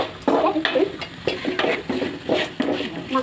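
A spoon stirs puffed rice upma in a pan over a low flame, giving repeated scraping and clinking strokes against the metal, close and fairly loud, with a faint sizzle underneath.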